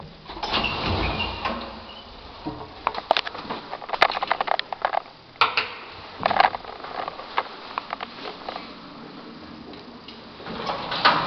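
A sliding car door on an old KONE traction elevator, built in 1942 and modernized in 2000, moves with quick rumbling slides and several sharp clacks and thuds, close by with no talking.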